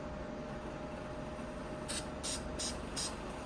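Four quick hissing bursts from a spray can, evenly spaced, close but soft, over a steady background hum.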